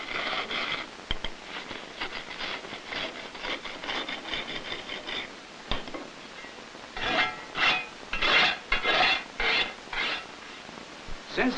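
Scraping of mortar joints with a homemade tool of bent half-inch conduit, close rhythmic gritty strokes repeating in uneven passes, growing louder toward the end.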